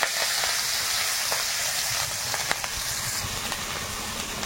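Black cumin seeds, green chilies and chopped onion frying in hot oil, a steady loud sizzle and hiss with faint stirring scrapes, no voices.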